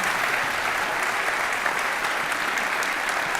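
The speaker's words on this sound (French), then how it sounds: "on peut les applaudir" Steady applause from an audience at an awards evening, dense and continuous clapping throughout at a moderate level, no voices standing out.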